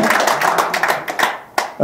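An audience at a lecture claps together, a dense burst of hands that thins out and then ends with a few last claps.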